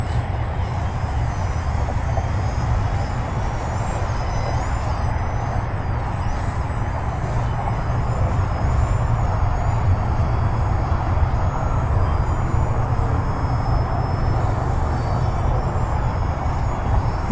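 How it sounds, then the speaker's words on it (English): An E-flite Micro Draco RC airplane, a high-wing model, hovers in place. Its electric motor and propeller make a continuous, even buzzing drone with a thin high whine on top, steady and close throughout, with no talking. "So let me put it into a hover and see."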